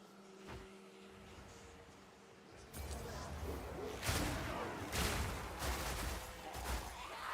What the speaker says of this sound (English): A hell of a lot of explosions.